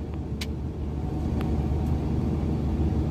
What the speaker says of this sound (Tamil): இன்ஜின் சவுண்ட் உங்களுக்கு வழங்குதா தெரியல